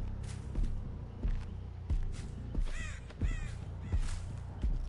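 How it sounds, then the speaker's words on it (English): Crows caw in the Dead by Daylight game, several harsh calls close by over a rhythmic pattern of heavy thumping steps that repeats roughly every two-thirds of a second. "I probably should pay attention to the crows."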